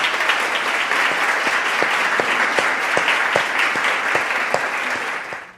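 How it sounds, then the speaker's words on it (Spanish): An audience gives sustained, steady applause for a secretary at a conference session, with dense clapping at an even loudness that fades only at the very end. "pedirle un aplauso especial a nuestra secretaria, Ani"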